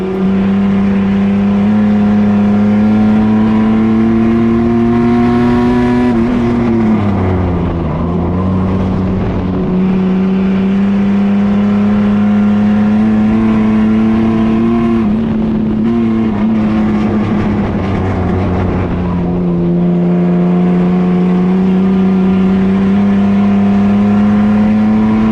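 Racing trucks roar at the Freedom Factory, a loud sustained engine drone with steady pitch that dips and climbs as the throttle shifts, running continuously close by with no talk.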